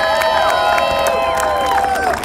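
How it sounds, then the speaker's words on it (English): A St. Patrick's Day parade crowd in Sunnyside, Queens, New York City, cheers and applauds nearby, with loud sustained whoops and shouts over scattered clapping. "Let's give him a round of applause."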